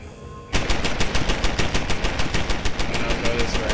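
An automated turret in Deus Ex: Human Revolution fires a loud, sustained burst of rapid, evenly spaced machine-gun shots that starts abruptly and hammers on without pause.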